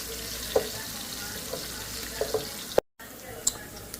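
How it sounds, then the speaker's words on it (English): Flour stirred into a hot pan for smothered fried chicken, a steady frying sizzle with scattered scraping and clicking taps from stirring, briefly cutting out. "I'm going to add that flour in here. And we're going to stir it until it's right."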